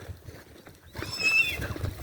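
On a farm where horses are being moved, a horse gives a brief, shrill whinny over a low background of shuffling and movement.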